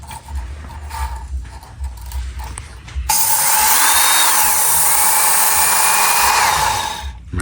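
A Work Sharp Ken Onion Edition electric belt knife sharpener starts with a whir, then grinds a knife blade in a loud steady drone with the pitch rising and falling as the blade is drawn across the belt twice, then shuts off.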